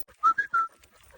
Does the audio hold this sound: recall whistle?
yes